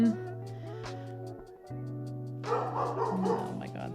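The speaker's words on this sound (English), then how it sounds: "Oh my god, these dogs." Several dogs bark at home, giving sharp yips and woofs over a steady low hum. The barking grows busier and louder toward the end.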